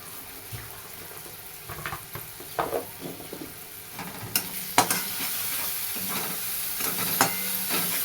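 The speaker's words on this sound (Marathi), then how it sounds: "थोडीशी हळद टाकून परतून घेऊया" Spices with turmeric sautéed in a pan for a Maharashtrian gawar (cluster bean) bhaji, giving a steady soft sizzle with scattered scraping stir strokes from a spoon, close by and fairly quiet.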